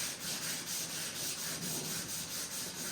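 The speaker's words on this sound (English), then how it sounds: "Maybe you sand through a little bit, find those highs and lows. Keep it wet." Rhythmic back-and-forth rubbing of wet sanding on primed bodywork of a Vendo 39 Coke machine, an even, close hissy scrub repeating about every quarter second.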